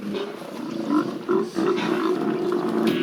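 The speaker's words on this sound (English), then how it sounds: "This is a sea lion haul out." Sea lions at a coastal haul-out in Alaska make a dense, continuous chorus of low barks and roars, with several overlapping animals close by.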